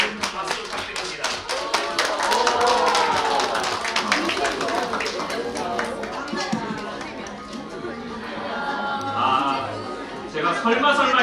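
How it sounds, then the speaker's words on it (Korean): Audience clapping in a conference hall during a fact-checking workshop, a crisp burst of many hands that continues beneath someone talking over it, with lively crowd chatter throughout. "박수 부탁드립니다."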